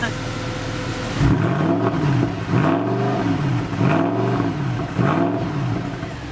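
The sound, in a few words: Mercedes CLK63 AMG Black Series engine revving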